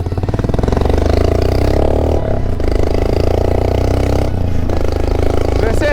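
Royal Enfield Himalayan motorcycle running with its exhaust missing, a loud, raw, continuous engine roar with steady firing pulses and clatter, briefly dipping twice as if easing off the throttle, close to the rider.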